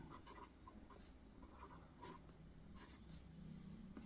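Chalk or marker scratches and taps across a board during a maths lesson, a string of short, quick strokes at close range, faint and steady, with no talking over them.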